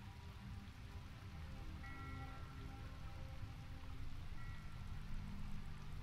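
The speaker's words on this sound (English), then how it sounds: "it's raining and it's night time" Rain falls at night in the video game Skyrim, a continuous soft patter and hiss with faint tonal hints underneath, no voices.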